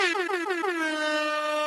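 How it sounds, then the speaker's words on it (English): An air horn sound effect blasts in a loud, fluttering burst that settles into a sustained, close, piercing tone with no talk over it. "I have not used those air horns in a while,"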